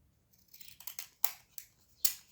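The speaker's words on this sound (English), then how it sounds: "These scissors, they tend to want to stick." Scissors snip through paper in several short, crisp cuts, close and fairly quiet, with brief pauses between snips.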